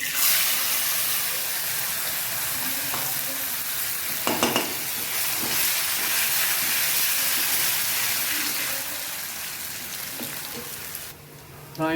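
Rice fries in hot oil with fenugreek seeds, a continuous, loud hiss and crackle with a few stirring scrapes around the middle before the sizzle cuts off near the end.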